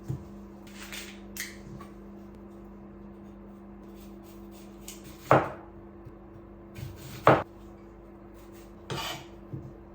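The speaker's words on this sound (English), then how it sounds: "Chop some red onion." Red onion being cut with a knife on a board, a few sparse soft cuts followed by three louder sharp knocks spaced about a second or two apart, over a low steady hum, with no talking.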